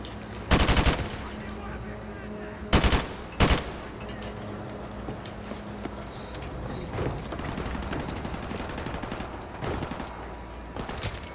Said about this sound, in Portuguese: O cara atirando em mim, mano.